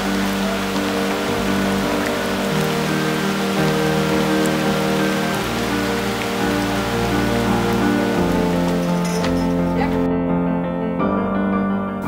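Steady rain drums continuously on a surface in a remote Indonesian hamlet for the whole stretch, fairly loud and close, with a low humming tone running beneath it.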